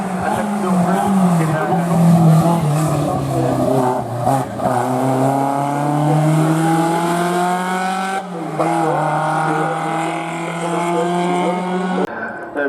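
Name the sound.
1964 Ford Cortina Lotus racing in a hill climb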